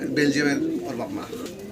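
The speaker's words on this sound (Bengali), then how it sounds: "ভালো ব্লাড লাইনের একজোড়া রেসার কবুতর পাচ্ছেন" A pair of racing pigeons coo in low, throaty burbles close by, with a person's voice talking over them.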